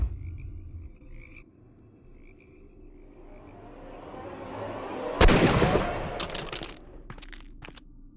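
A gunshot from Dr. Watson in Sherlock Holmes: Crimes and Punishments cracks loudly and sharply midway through, after a slowly rising tense rumble, followed by a few more brief sharp impacts near the end.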